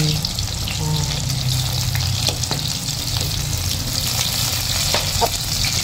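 Chicken frying in hot oil, a loud, continuous close-up crackle and hiss with occasional sharper pops.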